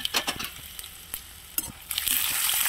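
Curry leaves, dried red chillies, urad dal and mustard seeds crackle and pop in hot oil with asafoetida, with sharp spattering bursts and stirring scrapes that build into a steady sizzle, close and without talk.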